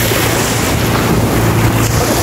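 Rushing sea wind and wave noise roar close to the microphone, with steady buffeting as if riding on a moving boat.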